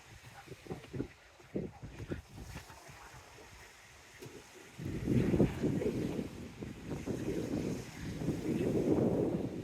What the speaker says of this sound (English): Shame it's so windy, but there we go.